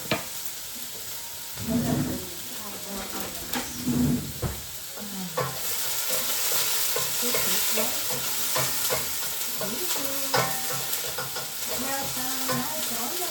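Onion sizzles and fries in a pan for spaghetti, stirred with a few scraping strokes early on, then a steady close frying hiss with scattered crackles throughout.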